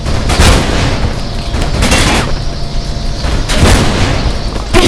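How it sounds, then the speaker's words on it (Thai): Sniper gunfire in the video game Mirror's Edge: three loud, booming shots spaced a second or two apart, ringing over a dense, steady wash of game noise. "มีมือสไนเปอร์อยู่ที่ตึกอีกฝั่งหนึ่ง มันลงมาแล้ว no no มันจะยิงกู"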